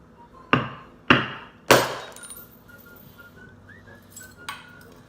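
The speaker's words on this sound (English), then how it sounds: "Handy dandy little hammer." A small hammer strikes a folded towel on a work surface three times in quick succession, each a sharp, close thud with a brief ringing tail, followed by faint clinks and light handling noises.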